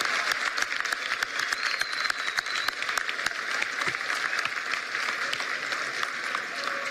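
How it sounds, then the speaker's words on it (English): Students give a lively round of applause, many hands clapping crisply and steadily from start to finish at close range, with no talking over it. "let's give them a round of applause"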